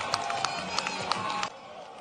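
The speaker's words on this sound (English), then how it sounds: "We deserve your clap." Brief scattered clapping from a crowd at a Nigerian political rally, a handful of sharp distinct claps over a murmuring audience that fade out after about a second and a half.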